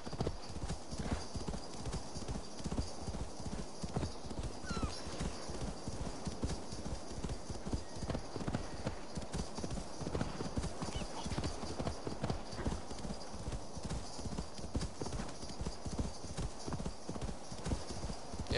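Horse galloping in the video game Assassin's Creed Valhalla, a rapid, steady clip-clop of hooves continuing for the whole stretch, close and even, with an occasional faint whinny.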